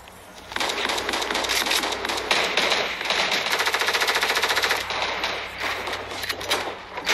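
Rapid automatic gunfire in a video game, long loud continuous bursts running through nearly the whole stretch with no speech.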